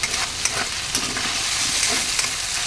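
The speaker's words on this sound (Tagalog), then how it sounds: "Luluto-lutuin pa natin ang ating chicken, guys." Chicken for saucy pancit stir-fries in a home-kitchen pan, a continuous close sizzle with scraping and stirring strokes throughout and no talking.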